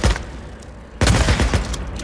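Gunfire in the video game Days Gone, a burst of loud rapid shots, a brief lull, then another dense volley of close, heavy firing.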